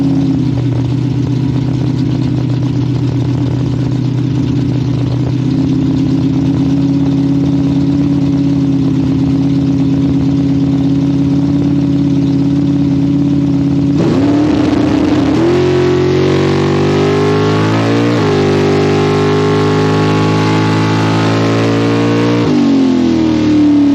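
A drag-racing car in a radial-tire series idles loudly and steadily, then launches into a hard, rising engine roar with rapid gear-change dips, all close and continuous with no talk.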